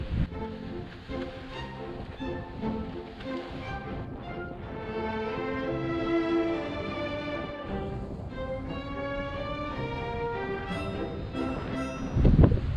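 Steady wind noise rushes across the microphone aboard a sailboat under way at sea off Baja California, with a faint tonal hum and a louder gust near the end.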